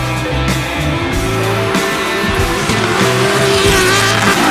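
A turbocharged drift car built for European drifting competition squeals its tires continuously as the engine roars under load, loud and close, with the rubber screech sustained across the run.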